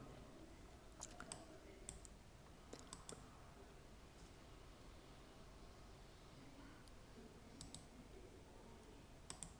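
Soft computer mouse clicks while working in LibreOffice Base, a few scattered double clicks over a quiet hiss of room noise.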